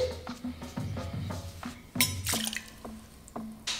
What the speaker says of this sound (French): Dans ton verre, tu vas mettre 2 onces de ton rye whisky